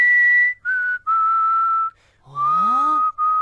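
Several clear whistled notes, each held for a moment and separated by short gaps, with a brief sliding tone near the end.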